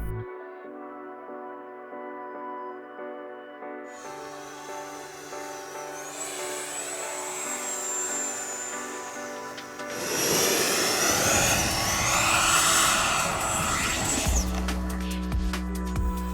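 An E-flite F-16 80mm electric ducted-fan RC jet whines steadily overhead, then surges into a louder, rushing roar as it stalls, with a rising and falling turbine pitch and no voices.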